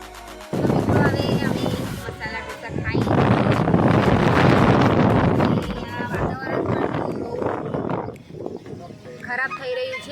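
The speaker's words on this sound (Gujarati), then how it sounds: "પવન પણ ફૂંકાઈ રહ્યો છે" Strong wind buffets the microphone outdoors before rain, loud rumbling gusts that rise and fall through most of the clip, with faint voices in the background.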